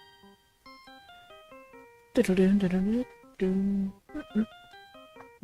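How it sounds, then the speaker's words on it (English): The Steel Samurai phone ringtone from the Ace Attorney video game plays as a bright, chiming electronic melody of quick stepped notes, interrupted midway by a loud voice speaking over it. "steel samurai ringtone. My phone."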